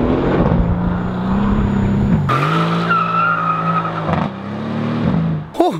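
A twin-turbocharged Mercedes-AMG C63 S drifting, its engine roaring loud and close with a steady, shifting drone, tire squeal rising over it, and a sharp burst near the end.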